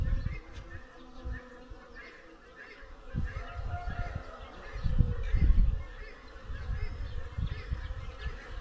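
Bees buzz steadily around a beehive under attack by wasps, a low continuous drone that swells in the middle and stays close without any talk.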